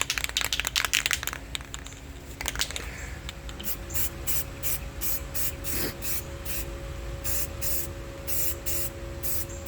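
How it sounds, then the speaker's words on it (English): Rust-Oleum satin spray paint hissing from an aerosol can onto car parts of a turbo big-block Plymouth Duster, in a steady series of short bursts, close and fairly loud, with a faint tonal hum underneath. "shoot a little bit of paint on them, and call them good. Just a little bit of satin,"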